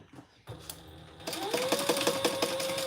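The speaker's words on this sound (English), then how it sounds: "Now we're going to top stitch on these sides and then baste the sides closed." A sewing machine top stitches the sides of a fabric bag, its needle beating in a steady rapid rhythm that starts up after a quieter pause and then runs on loud and close, with no talking.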